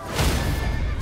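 A horse gives a loud, shrill whinny up close in Elden Ring, a single drawn-out neigh with a game-like, processed quality.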